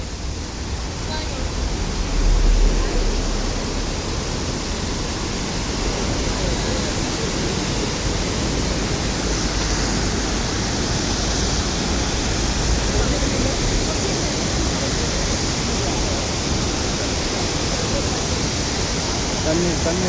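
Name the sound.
waterfall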